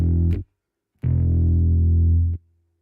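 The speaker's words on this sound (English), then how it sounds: "You can hear that noise gate kick in." Distorted electric bass notes through the iOS Bass Hammer amp app, each sustained tone cut off abruptly by a noise gate into silence, two bursts separated by a clean gap.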